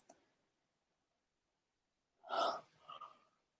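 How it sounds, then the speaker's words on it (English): A person gives one breathy, drawn-out yawn, close and fairly soft, trailing into a shorter exhale after a quiet pause. "Because I'm yawning."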